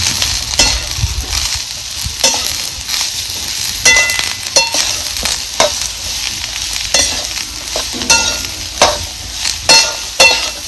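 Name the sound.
stir-frying chopped ivy gourd (tondli) in a pan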